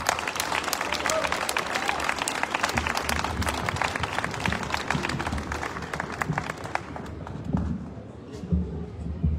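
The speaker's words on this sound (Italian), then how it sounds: "adesso accogliamo con un grande applauso il candidato sindaco" Crowd in an outdoor piazza applauding at a political rally for a mayoral candidate, dense sustained clapping that tapers off toward the end, with voices mixed in.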